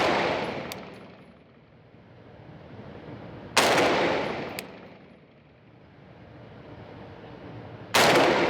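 Rifle fired at a target at a shooting range: three sharp, loud shots spaced a few seconds apart, each followed by a long fading echo.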